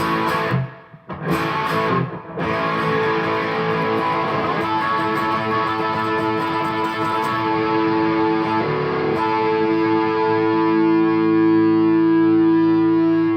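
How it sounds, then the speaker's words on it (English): Electric guitar played through a distortion and octaver pedal during a live jam, with a thick, layered tone. Sustained chords and notes ring out continuously, loud and close, with no talking over them. "can really hear the octaver at the end"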